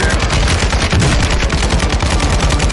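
Rapid automatic gunfire from a Warzone 2 match rattles on continuously and loudly, dense overlapping bursts filling the whole stretch with no pauses.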